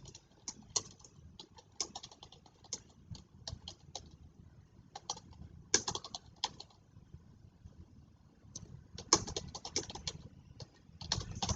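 Typing on a computer keyboard while setting up a guess-the-number puzzle: quiet, close key clicks in irregular bursts and clusters with faint background hiss, the densest patter coming near the end.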